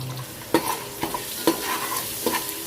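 Salt, chili powder and turmeric fry in hot oil, with a steady low sizzle broken by several sharp clinks of a spoon against the pan, no voices.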